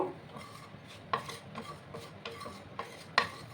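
Dried chilli, fennel seeds and five-spice being dry roasted in a pan, with quiet repeated scraping and stirring strokes and light taps of a utensil against the pan, close by and with no talking.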